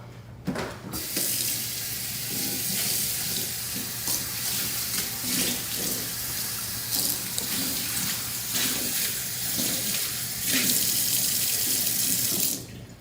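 A kitchen tap runs steadily while a cooking pan is rinsed out, a close, continuous water stream with occasional splashes and clatter from the pan, and no talking.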